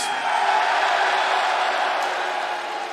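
A wrestling arena crowd at AEW Dynamite in Rosenberg, Texas gives a mixed reaction of cheers and boos, a dense, steady roar that stays loud throughout and dips slightly at the end.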